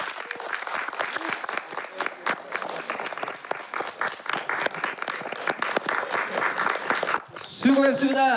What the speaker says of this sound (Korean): 우리 최후 3인에게 큰 박수 부탁드립니다